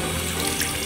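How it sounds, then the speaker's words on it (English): Water runs steadily from a sink tap, a continuous close splashing rush that fills the whole moment with no voices. "I'm gonna turn on the water and wait till it gets warm."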